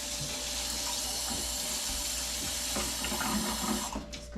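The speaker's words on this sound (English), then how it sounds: "just gonna put a little bit of water on there so the the seasonings will stick" Water runs from a pitcher or tap onto a pan of roasting chicken and vegetables, a steady close trickling splash that continues throughout and trails off at the end.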